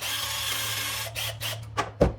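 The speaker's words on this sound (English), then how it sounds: "we're just gonna finish it by drilling all the way through" Short bursts of a power drill whirring at close range as it drills through pallet wood, rising in pitch at the end, over a low steady hum.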